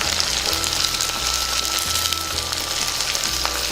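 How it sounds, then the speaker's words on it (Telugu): Green peas added to a pan with potato and carrot pieces for Telugu-style vegetable rice, giving a steady broadband sizzle and fry throughout with a few faint stirring knocks and no talking. "ఇప్పుడు పచ్చి బఠానీ వేసుకుందాం."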